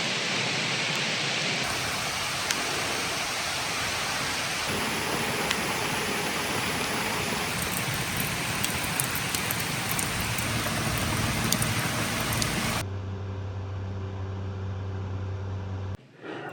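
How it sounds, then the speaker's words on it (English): Rain falls steadily at night in the woods, a dense hiss of drops pattering on surfaces, close and continuous, before cutting to a quieter stretch with a low hum near the end. "Yep, it's raining."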